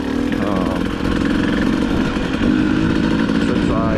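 A dirt bike with freshly reworked suspension idles at a motocross track, its engine a steady close rumble with a slight rise in revs near the end.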